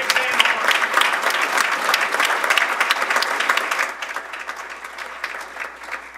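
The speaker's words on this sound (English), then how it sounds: "a nice round of applause for the great game" A crowd at a baseball press event applauds the field manager of the Kokomo Jackrabbits, loud dense clapping that stays strong, then thins and fades slightly toward the end.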